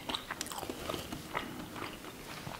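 Close-up crunching bites and chewing of cooked fish, with several sharp bite sounds followed by moist mastication, quiet and continuous with no talking.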